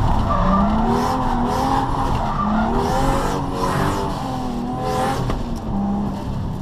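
Toyota Supra drifting into a spin, with loud continuous tire squeal and skidding over a strained engine note, close and unbroken throughout with no talk.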